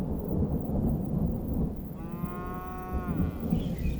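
Cattle grazing on hilltops near the edge of the Kalahari give one clear drawn-out moo partway through, heard against steady low rumbling ambience, with no talking.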